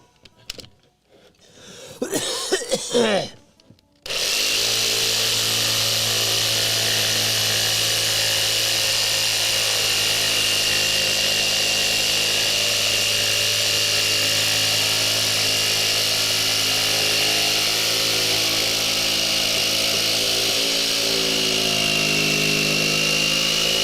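A chainsaw cutting wood roars into a loud, steady, droning whine after a few quieter seconds, running continuously at close range.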